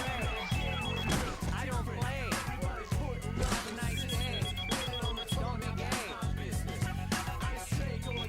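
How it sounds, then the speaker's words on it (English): A telephone rings in the Outlaw Golf 2 video game, a steady repeating bell pattern running throughout over dense game music and sound effects. "Wait a minute, there's the phone."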